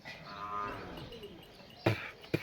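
Cow at a Cholistan cattle farm in Pakistan lowing in one long, drawn-out moo that slides down in pitch, fairly faint, followed by a couple of sharp thuds or knocks nearby.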